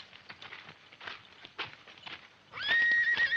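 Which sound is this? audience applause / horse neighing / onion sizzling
horse neighing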